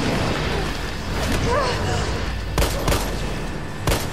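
Gunfire in the video game Resident Evil 3, with rumbling action noise broken by a few sharp, loud shots spaced near the end.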